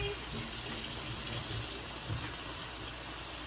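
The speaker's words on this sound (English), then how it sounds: "Make it a habit to wash your hands when y'all cook because I definitely do." Tap water runs steadily into a kitchen sink for hand washing during cooking, a continuous close hiss and splash with no talk.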